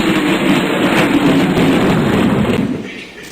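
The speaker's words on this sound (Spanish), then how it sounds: "Trueno." Thunder rolls as a long, broad, loud rumble that stays steady for nearly three seconds, then fades away.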